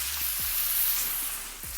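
Steak searing in melted butter with rosemary in a pan, a steady close hiss with a few soft pops and crackles, no talking.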